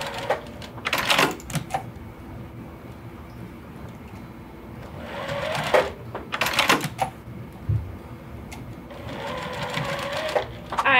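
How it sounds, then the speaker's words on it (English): Sewing machine stitching the corners of a table runner together, running in several short bursts separated by pauses and handling noises, close and clear. "I sew my corners together first to make sure they line up"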